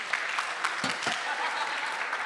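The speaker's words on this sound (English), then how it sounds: "Round of applause for these guys." Audience applause at a conference reunion event, a steady moderate wash of clapping with a couple of brief low thumps partway through.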